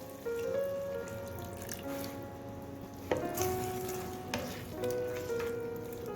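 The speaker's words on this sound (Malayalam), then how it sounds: "ഇനി ഇതിൽ നമുക്ക് ഒരു 1/2 കപ്പ് വെള്ളം ഒഴിച്ചു കൊടുക്കണം" Half a cup of water poured into chicken biryani in a pan, a steady splashing pour over a sizzling base with a few sharper spatters, close and moderately quiet.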